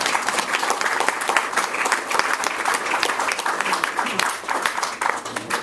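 Audience applause after a speaker at a First World War centenary book launch, a dense, steady roar of many hands clapping from a sizeable indoor crowd, with speech faintly mixed in.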